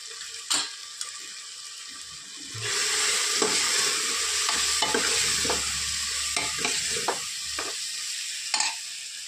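Chili powder, asafoetida, onion and garlic sautéing in a pan for a potato, eggplant and lentil dish, a steady sizzle that swells after a few seconds, with repeated scrapes and knocks of a spoon stirring, no talking.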